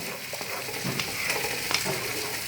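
Cashews, melon seeds and paneer cubes sauté in a pan, giving a soft continuous sizzle broken by light scraping stirs, close and fairly quiet.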